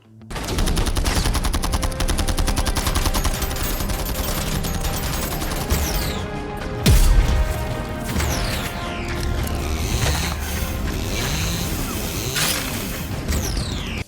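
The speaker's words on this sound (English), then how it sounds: "my only gripe being the tinny sound effects from the heavy bolter" Rapid heavy bolter gunfire in a Warhammer 40,000 video rattles almost nonstop, with a loud blast near the middle and dense automatic bursts layered throughout.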